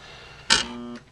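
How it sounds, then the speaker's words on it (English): A short mechanical clunk followed by a brief, low electric hum from a jammed garbage disposal, which cuts off after about half a second. "it just makes a brrr sound like this"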